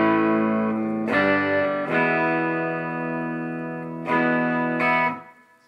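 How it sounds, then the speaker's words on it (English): Clean electric guitar chords ring out through an amp with no effects on, strummed in a few sustained hits with a soft, slightly spacious tone, no talking. "the sound of the amp clean right now with nothing on"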